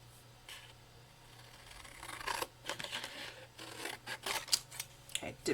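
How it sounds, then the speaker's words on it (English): Scissors cut paper for a handmade shaker tag, producing a series of close, irregular snips and rustles that grow louder toward the end, with faint room noise between. "I'm going to now cut it. Yeah, let's just cut it."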